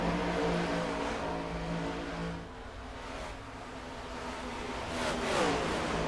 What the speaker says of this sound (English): it's just the car out is really loud at times